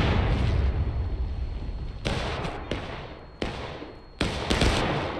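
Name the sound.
gunfire in the video game War of Rights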